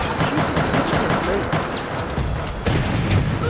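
Rapid gunfire rattles through a Resident Evil: Operation Raccoon City firefight, with a dense stream of close, loud shots and heavier bursts near the end.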